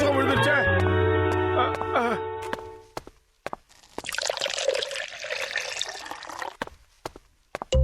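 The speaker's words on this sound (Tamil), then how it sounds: "கெமிக்கல் இப்ப ஜார்ல ஊத்துப்பா" Cartoon chemical liquid glugs and splashes into a jar, a noisy broadband pour lasting a few seconds after a burst of tonal cartoon music and a sigh, with short clicks around it.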